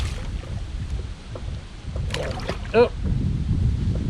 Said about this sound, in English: The wind is definitely picking back up.